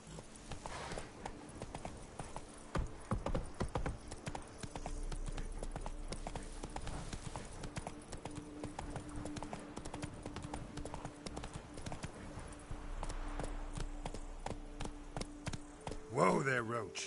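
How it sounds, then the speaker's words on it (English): Horse hooves clip-clop steadily through a PS4 video game ride, a rhythmic trot with a brief slowing near the end, heard over continuous game ambience and some talk. "Whoa there, Roach"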